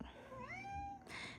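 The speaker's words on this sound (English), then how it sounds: "That's the cat." A cat meows once in a drawn-out rising and falling call, close and clear, followed by a short second mew, with no talking over it.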